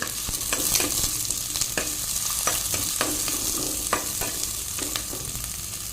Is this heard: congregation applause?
no